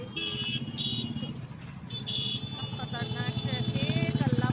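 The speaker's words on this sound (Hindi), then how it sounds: "खतरनाक ट्रैफिक" Busy street traffic in Tripolia Bazaar market during Diwali season, with steady engine rumble, tonal horn toots and honks close by, and people talking over the din.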